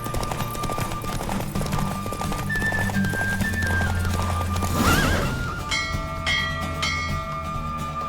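Horse galloping in The Witcher 3 video game, with neighing and rhythmic hoof clip-clops over a continuous game soundscape and music, steady and fairly loud throughout.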